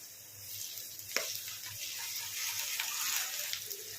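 Ginger garlic paste frying in oil with onions and curry leaves in a pan, giving a continuous soft sizzle with faint stirring scrapes, heard close and steady throughout.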